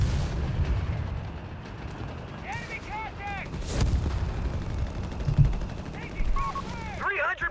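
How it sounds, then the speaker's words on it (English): Mortars and other artillery fire on a battlefield in the strategy game Company of Heroes 3, with deep booming thuds, scattered shell impacts and small arms crackle, and a commentator talking over it. "And we got so many mortars now firing off there."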